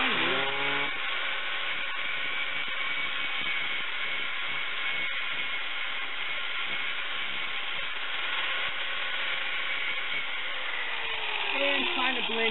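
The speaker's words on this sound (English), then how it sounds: "you can take and do a little cleanup with your right angle grinder" A right angle grinder cleaning up a steel axe head gives a continuous high whining grind that holds steady for the whole stretch, close and fairly loud.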